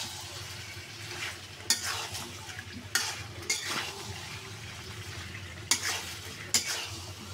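Potatoes tumble into frying beef curry in a pan, a steady sizzle running throughout with several sharp clatters and scrapes of stirring utensils against the pot.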